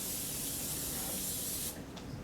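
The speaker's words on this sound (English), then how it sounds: "So I'm going to take the cooking spray." Cooking spray hissing out of a can onto cinnamon chips, one steady close spray burst of about a second and a half, then a brief quiet pause and a faint short puff.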